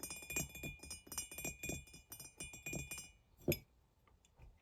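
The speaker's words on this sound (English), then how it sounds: "And then I've got this mug as well." A ceramic mug is handled on a bookshelf, a run of soft close taps and light knocks followed by a single clear clink as it is set down, quiet and intimate with no talking.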